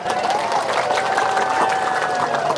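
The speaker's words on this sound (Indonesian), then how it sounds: "Dengerin tuh, tepuk tangan lagi, tepuk tangan." Audience applause during a religious sermon, steady mid-level clapping throughout a short stretch with a preacher's voice faintly mixed in.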